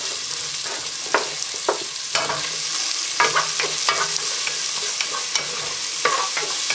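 Onions are stirred into half-browned bacon frying in a pot for clam chowder, a steady bright sizzle punctuated by repeated scraping and knocking of a utensil.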